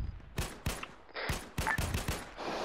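Gunfire in the military shooter Arma 3: several sharp reports in quick, uneven bursts, loud and fairly close, each followed by a short echoing tail, with no talking.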